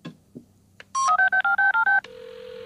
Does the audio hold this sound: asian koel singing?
no